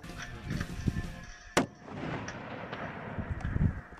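A rifle shot fired while hunting a mountain ram cracks out once midway, sharp and fairly distant-sounding over outdoor rumble and wind, with indistinct voices around it.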